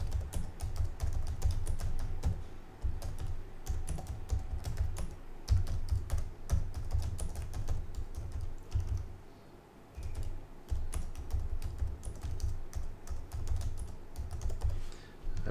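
Rapid, steady typing on a computer keyboard while entering search keywords, close and clear, with dense clicking keystrokes running almost continuously and only brief pauses, no talking.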